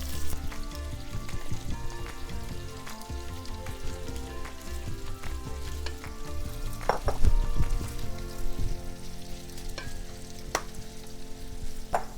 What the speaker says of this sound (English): we're going to put the pork, each little piece of pork in there to caramelize and get some nice color on there